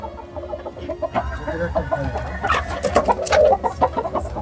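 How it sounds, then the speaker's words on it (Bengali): Chickens cluck and squawk in alarm inside a coop with a cobra hiding among the bricks nearby, a steady run of nervous, fairly close calls. "আর এই যে পাশেই মুরগিগুলো ভয় পাচ্ছে"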